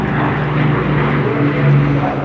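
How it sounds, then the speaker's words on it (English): A four-engined Avro Lancaster heavy bomber passes in a flying display at Farnborough, its propeller engines giving a loud, steady droning roar throughout. "the Avro Lancaster was the standard Royal Air Force heavy bomber"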